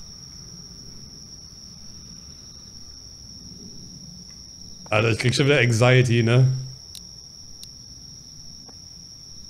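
Crickets chirp steadily in a horror video game, a high thin trill running throughout with a few sharp clicks near the end, while someone briefly speaks partway through.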